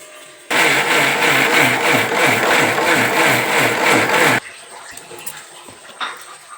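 A mixer grinder runs loudly for about four seconds, grinding soaked rice with water into dosa batter with a steady whirring roar, then cuts off, leaving quiet room noise.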